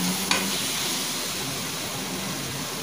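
Ground masala paste for mutton biryani sautéing in a pan, giving a steady, dense sizzle with one brief utensil tap near the start, close and unbroken, with no speech.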